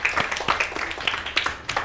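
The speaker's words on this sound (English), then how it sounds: "Clap for them." Children clapping together in a classroom, a steady patter of small hands for a couple of seconds, close and moderately loud, with no voices over it.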